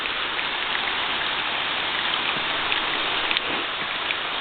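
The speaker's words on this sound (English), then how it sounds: "It's about to rain even harder." Steady rain pours down during a rainstorm, a dense, continuous hiss of drops striking surfaces nearby, unbroken and fairly loud with no talking.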